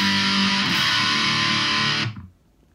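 Electric guitar played through heavy distortion, a loud sustained chord that rings for about two seconds and then cuts off abruptly into near silence.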